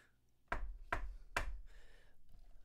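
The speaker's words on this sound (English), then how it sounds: "I knock on the door." Three sharp, evenly spaced knocks on a door ring out close and clear, followed by a faint shuffle.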